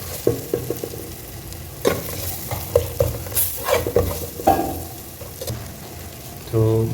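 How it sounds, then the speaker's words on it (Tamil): Curry powder and spices frying in a little oil for a fish curry, with repeated stirring strokes and scrapes over a steady close sizzle. "கொஞ்சம் எண்ணெயில் பிடிக்கிட்டோம்."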